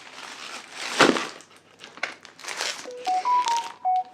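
A mobile phone sounds a short run of electronic tones at the end, clear steady beeps stepping in pitch, after a stretch of crinkling packaging and rustling handling noise.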